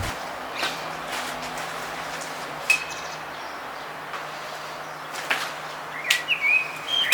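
Birds chirp near an apartment terrace in Aosta, Italy: a few sparse, brief calls over quiet outdoor ambience, with a clearer whistled phrase near the end.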